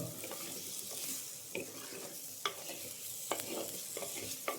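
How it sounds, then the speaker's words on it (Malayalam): Chopped tomato is stirred in a hot pan, giving a soft continuous sizzle broken by several sharp scrapes and clicks of the spoon against the pan, close and fairly quiet. "നന്നായി ഇളക്കുക."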